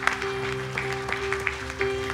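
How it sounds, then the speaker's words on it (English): Steady clapping from a literature festival audience, dense and continuous with a few sharper peaks, over a sustained tonal hum in the background. "A big round of applause for Jeremy"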